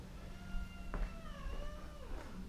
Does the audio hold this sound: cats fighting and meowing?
yes